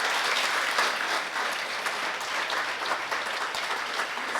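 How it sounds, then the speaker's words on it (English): A room of people claps in a steady round of applause, moderately loud and even throughout, with no voices rising above it. "We'll have a big round of applause."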